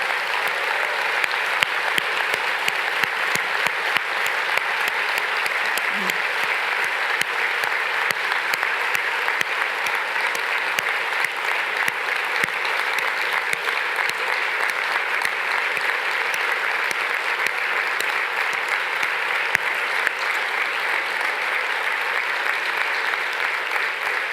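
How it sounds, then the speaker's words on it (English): Sustained applause from a large conference audience for the program team, a dense and even wash of many hands clapping that holds steady and fairly loud throughout without fading. "please join me in a big round of applause for the team that has worked so hard to make such a fantastic program for you"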